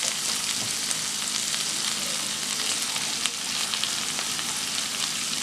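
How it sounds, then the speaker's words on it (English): Onion, ginger and garlic paste hitting a hot pan for soya chunk vegetable noodles, giving a dense, even, close sizzle with faint crackles that carries on without pause and without any voice. "So I'm adding the onion, ginger, garlic paste."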